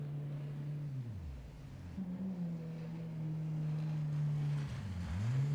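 An inflatable jet boat's engine drones steadily, its pitch sliding down, holding, then dipping and rising again as the throttle changes; close and fairly loud, no talk.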